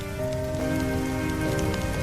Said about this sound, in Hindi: वही राजेश का परिवार तेज बारिश में बीच सड़क पर भीग रहा था